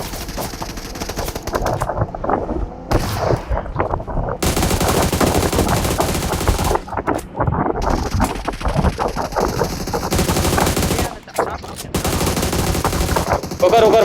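Rapid automatic gunfire from a video game match, bursts of machine-gun fire and shots running almost continuously with short pauses, loud and close, with players talking over it.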